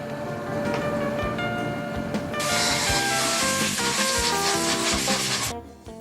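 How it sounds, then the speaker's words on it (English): Compressed air blasts loudly as fuel valve parts from a medium-bore engine are blown clean, a hard hissing rush that grows stronger midway and then cuts off abruptly near the end. "Clean all parts in gas oil and blow clean with compressed air."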